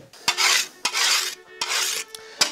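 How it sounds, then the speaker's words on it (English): A file rasps along a European scythe blade in four long, loud strokes, each a gritty scrape separated by brief pauses, with a sharp metallic tick at the start of several strokes. "You just file that rascal back and join it with a stone"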